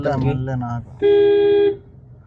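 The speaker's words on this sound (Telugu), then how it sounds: "హార్న్ ఇవ్వండి" Someone speaks briefly, then a car horn sounds once in a steady, loud blast lasting under a second.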